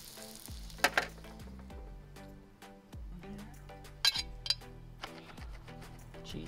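Burgers and onions sizzle steadily in a pan on a twig-fuelled EcoZoom Versa rocket stove outdoors, with several sharp metallic clinks of a utensil against the pan over the frying.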